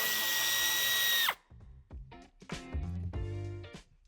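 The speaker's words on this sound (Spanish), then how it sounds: "Quitaremos el tornillo" A power tool backs out a screw under a trim molding at the bumper corner of a 2023 BMW X6 (G06) during a tow-hitch install: a steady high whine cuts off, then short pulsing bursts of the drive follow, close and loud.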